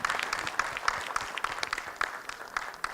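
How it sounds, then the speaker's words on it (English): Audience applauding panelists at a panel on policies for youth with disabilities, a steady, dense patter of many hands clapping, moderately close and continuous throughout. "an applause for all our panelists for now, just for the stories they shared"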